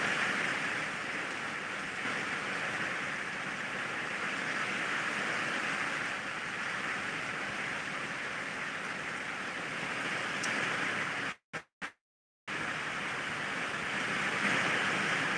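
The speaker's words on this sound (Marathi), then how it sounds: "खूपच जोराचा पाऊस चालू आहे मित्रांनो" Heavy rain pours steadily over Chhatrapati Sambhajinagar during the Pola festival, with gusty wind in a dense, constant roar. The wash briefly cuts out near the end, then resumes at full strength.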